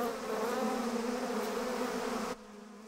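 A swarm of killer bees in the southern United States buzzes loudly and continuously, a close droning hum that drops away suddenly near the end.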